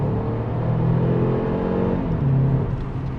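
A 2018 Mercedes-Benz CLA 250 4MATIC coupe engine in sport mode, a steady loud rumbling drone that swells and eases slightly as it revs, with no talking.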